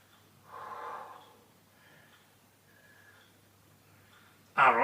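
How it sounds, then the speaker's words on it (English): Soft, slow breaths drawn in and let out during a beginner hip mobility stretch, quiet and close against a low background hum, ending in a sudden louder burst. "Couple of deep breaths."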